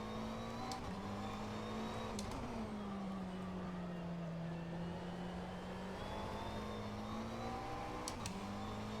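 A race car engine in a racing video game at Zandvoort drones steadily with small pitch rises and dips, a constant, fairly quiet motor tone with brief clicks.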